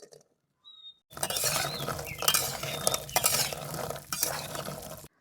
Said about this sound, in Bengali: এবার তেলে বড়ি গুনা দিয়ে দিলাম।